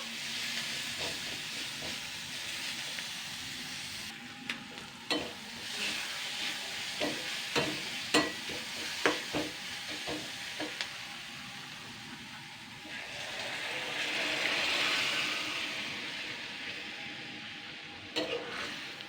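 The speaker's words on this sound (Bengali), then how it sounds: "এবার একটু ভালো করে নাড়াচাড়া করে দুই তিন মিনিট ফুটিয়ে তারপর কিন্তু নামিয়ে নিতে হবে" Jute leaf and chana dal curry simmers in a pan, a low bubbling hiss with bursts of spoon scraping as it is stirred, the steam swelling louder near the end.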